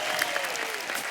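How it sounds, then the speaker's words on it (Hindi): A studio audience on a comedy talk show applauds to welcome a singer onto the stage, a dense, bright wash of clapping heard briefly with a faint tone running under it. "आप सबकी जोरदार तालियों के बीच प्लीज"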